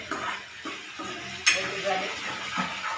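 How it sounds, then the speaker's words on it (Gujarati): Drumstick pod gravy hits a hot pan and sizzles steadily, with a sharp splash at the pour and light scraping and stirring over a soft frying hiss. "सरगवानी सिंगों की ग्रेवी अब डाल दो अंदर"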